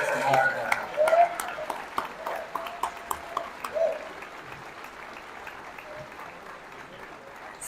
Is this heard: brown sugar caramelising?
no